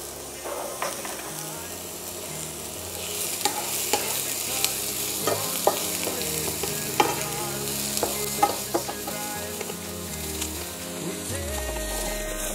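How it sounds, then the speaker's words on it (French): Onion sizzles in a tablespoon of olive oil in a pan, a steady close frying hiss with frequent scraping and stirring clicks from a utensil throughout. "je vais mettre un petit peu d'huile d'olive, une cuillerée à soupe, et je vais faire rissoler l'oignon."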